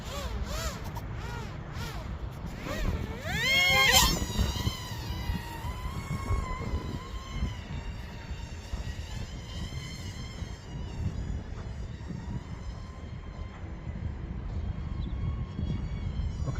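The electric motor of an XK A100 RC airplane whines as it takes off in windy weather outdoors. The pitch rises and sweeps quickly, peaks sharply, then fades into faint, wavering tones over a steady rumble of wind.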